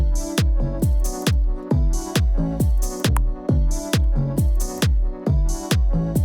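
A punchy electronic beat loops steadily, with strong kick and snare hits on a regular rhythm and bright hi-hats on top, loud and with no voices.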